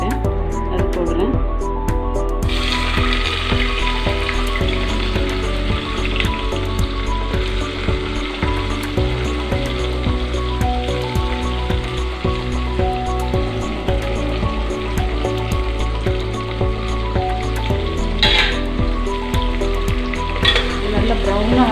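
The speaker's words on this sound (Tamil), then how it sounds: "நல்ல ப்ரௌனாக ஆகிற வரைக்கும் வதக்கணும்." Sliced large onions with cardamom and cloves sizzling and frying steadily in a pan for home-style mutton biryani, with occasional stirring scrapes, constant and close throughout under a voice talking.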